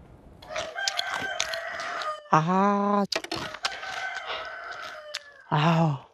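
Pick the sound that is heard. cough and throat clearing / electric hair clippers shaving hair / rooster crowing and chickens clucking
rooster crowing and chickens clucking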